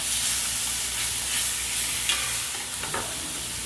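Small bluegill fillets sizzle loudly in melted butter in a pan, a steady bright frying hiss with a few scraping stirs and soft clinks near the end, and no talking.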